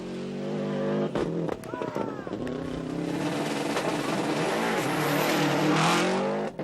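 Subaru rally cars race in the 1995 World Rally Championship, engines revving and shifting loudly up close, with tyre noise, under continuous excited commentary.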